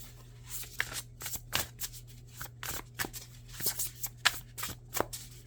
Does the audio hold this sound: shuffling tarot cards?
yes